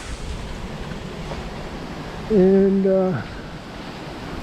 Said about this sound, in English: you think there ain't any wind out there? There definitely is.